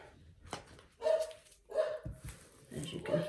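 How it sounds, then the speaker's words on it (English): A dog barks in several sharp bursts spaced across the clip, fairly close, with faint background noise between barks. "There's my dogs barking"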